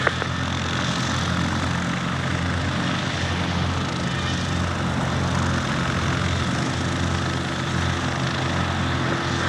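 A Cessna 152, G-BWNB, taxiing out at Leicester Airfield: its piston propeller engine drones loud and close, a steady, even rumble for the whole stretch with no pauses.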